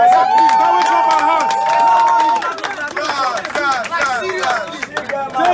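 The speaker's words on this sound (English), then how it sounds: "Can we clap our" Crowd clapping at an African Action Congress rally in Enugu State, irregular bursts of hands mixed with a speaker's amplified voice and cheering calls, the clapping growing more scattered and choppy after a couple of seconds.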